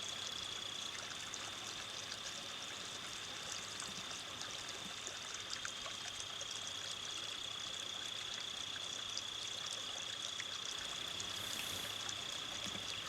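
Moore's Run, a small river stream, flows continuously with a steady rushing, trickling wash at even loudness, close by and uninterrupted, with no voices.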